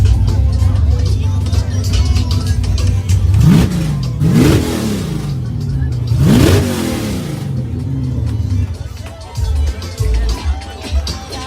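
A Chevrolet COPO Camaro at a Hot Wheels Legends Tour stop in Miami blips its engine in two sharp, loud rev bursts over a steady rumble, with crowd noise and background music throughout.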